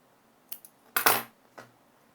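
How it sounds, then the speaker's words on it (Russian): A few quick metallic snips of scissors cutting knitting yarn, close and quiet, with one louder clipped cut in the middle and faint clicks around it. "Я обрезаю нить, чтобы она особо не мешала."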